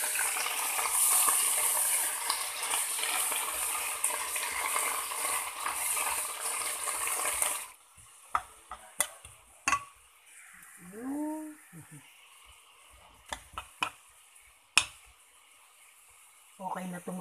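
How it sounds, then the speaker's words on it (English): Bok choy sautés with onions in a pan, a loud, even sizzle for several seconds. It then drops to quiet clatter and utensil taps, with a voice speaking briefly. "Okay na itong saute bok choy ko."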